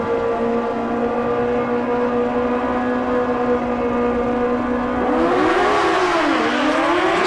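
A Suzuki GSX-R 1000 drag racing motorcycle in a Mancup World Finals run, a loud sustained high engine drone holding steady and then sweeping up and down in pitch near the end.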